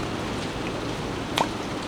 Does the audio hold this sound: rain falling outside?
yes